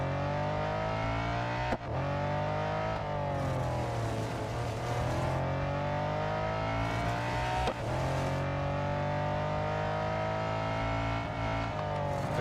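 A car engine roars continuously in the racing game Real Racing 3, rising and falling in pitch as it revs through gear changes, with a couple of sharp shift blips along the way and no talking.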